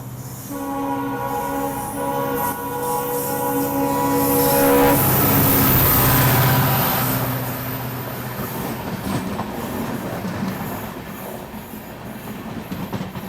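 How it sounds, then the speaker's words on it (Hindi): A diesel locomotive hauling the Jogbani–Danapur express approaches on a rural line in Bihar, its horn sounding loudly at first before giving way to a swelling rumble and rattling wheels as it draws near and passes. "सामने से कोई डीजल इंजन के साथ कोई ट्रेन आ रही है।"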